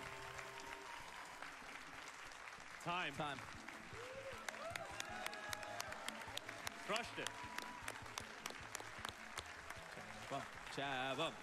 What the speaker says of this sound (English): You get a cheer and everything.